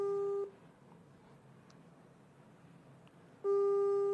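An unanswered phone call gives a repeating electronic ring tone, one burst at the start, a quiet gap, then another burst at the end, clear and alone.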